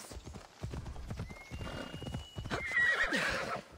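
Horse hooves clip-clop in a game of Assassin's Creed Odyssey, then the horse lets out a shrill whinny, with a voice talking over the start.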